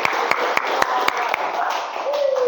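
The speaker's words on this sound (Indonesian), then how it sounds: "tepuk tangan untuk kita semua ya" A classroom claps together in a short burst of applause: a handful of distinct, evenly spaced hand claps over a murmur of voices and background chatter, fairly close and moderate in level.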